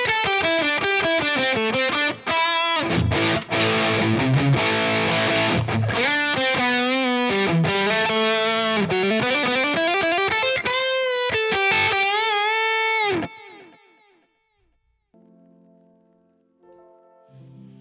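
Electric guitar lead tone with delay and reverb, driven and singing, playing expressive bent and sliding notes in a fast, fluid line, then fading into quieter sustained notes with a lingering ambient tail.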